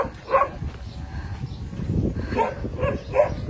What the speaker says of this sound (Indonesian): Kebetulan anjingnya menggonggong karena kita orang lain.